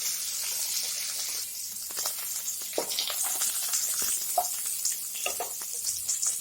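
A hilsa fish head fries in hot mustard oil in a pan, giving a steady, moderately quiet sizzle with crackly pops throughout and no talking.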